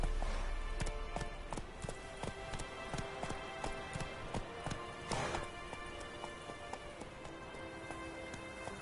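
Roach, a horse in The Witcher 3, gallops with steady rhythmic hoof clops on the ground, moderately loud and continuous, with a faint voice barely present.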